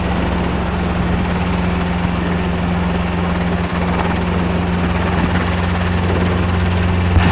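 A Robinson R22 helicopter runs steadily close by, its engine and rotor holding a loud, constant drone with a low hum underneath, and no one talks over it.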